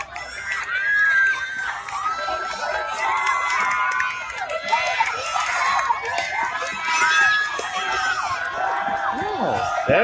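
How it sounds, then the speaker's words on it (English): A crowd of spectators cheers and shouts at a children's sports day, with high excited children's voices and whoops rising and falling continuously, loud and close throughout. "And the crowd goes wild."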